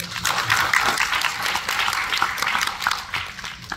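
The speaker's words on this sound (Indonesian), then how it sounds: "Tepuk tangan Pak" Audience applause at a business success-story seminar, a room of listeners clapping steadily and fairly loudly throughout, with no voices breaking through.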